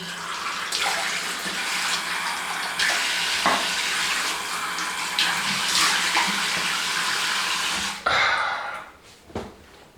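Tap water pours steadily into a sink in a loud, continuous rush before cutting off near the end, followed by a few small clatters.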